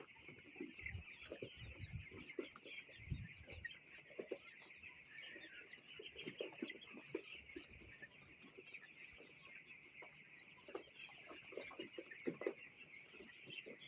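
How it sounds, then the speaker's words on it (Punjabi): Desi chicks and chickens cluck and cheep continuously, a dense high-pitched peeping chorus with scattered lower clucks, fairly faint and steady throughout with no talking. "ਕਿੱਡੇ ਸੋਹਣੇ ਦੇਸੀ ਚੂਚੇ ਰੰਗ ਬਰੰਗੇ"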